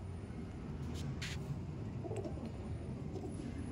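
Two pigeons at a loft give soft, low cooing, faint and murmuring, against a quiet background hum.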